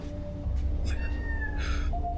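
A person imitates a cat, giving a drawn-out meow with a rising and falling pitch, fairly close over a low background hum.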